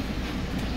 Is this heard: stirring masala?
no